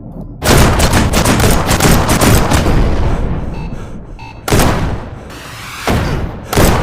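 Gunfire in the VR shooter Shotwood as bots are shot, bursts of rapid loud shots and booming impacts with a sustained volley at first, then shorter separate bursts after brief lulls, no talk.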